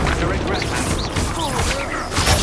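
A Confringo fire spell is cast in the Hogwarts Legacy video game, a dense, sustained blast of crackling, booming magic effects layered with game music and character voices throughout.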